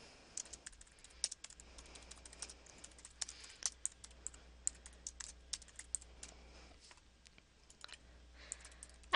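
Quiet typing on a computer keyboard as a note is entered in customer-management software: a steady stream of light, close key clicks with irregular rhythm over a low background hum, with no voices.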